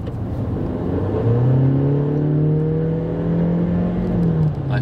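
At full throttle in sport mode, a 2020 Honda CR-V engine revs up from a low idle into a loud, sustained, rising whine. It holds steady for several seconds, then eases off at the end, with no voices present.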